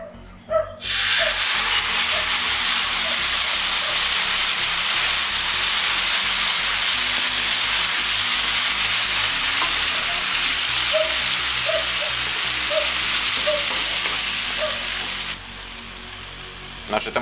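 Peppers fry in a pan with a dense, steady sizzle and spitting crackle that runs for about fifteen seconds before cutting off, with faint clicks underneath.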